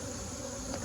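Honey bees buzz around a hive, a dense, steady hum of many insects heard briefly and fairly faint.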